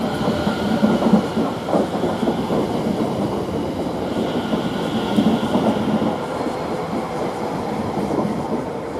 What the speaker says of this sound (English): in distance there, we've got the Elizabeth line now departing